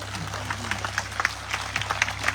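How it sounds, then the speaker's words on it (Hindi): A church congregation claps loudly together, a dense continuous burst of hand claps with crowd murmur and a low steady hum underneath. "इसलिए आप एक बार फिर जोर से ताली बजा दें"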